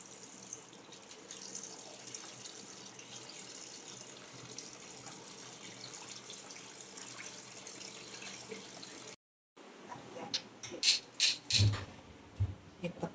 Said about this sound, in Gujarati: આ રીતે મેલ નીકળે ત્યાં સુધી આપણે ધોઈ લેવાનું 2-3 પાણી